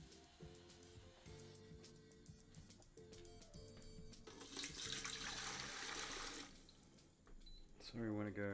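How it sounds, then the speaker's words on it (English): Water running from a kitchen tap while cooking chicken sweet corn soup: a brief, fairly loud rush of flowing water lasting about two seconds, set among other background sounds and clatter. "Okay, let me get a lot of water."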